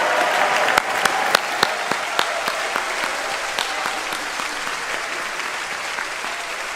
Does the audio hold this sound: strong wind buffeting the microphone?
no